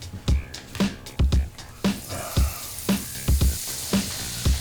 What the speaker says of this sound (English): So I'm gonna dump in a couple of tablespoons of butter.